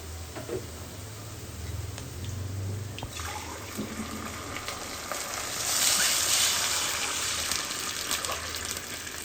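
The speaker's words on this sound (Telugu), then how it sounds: "సేమియా తీసుకుంటే రెండు గ్లాసులు వాటర్ పోసుకోవాలి" Water poured from a glass into a pan while making semiya upma, a continuous splashing flow that swells louder partway through with a faint hot-pan sizzle beneath.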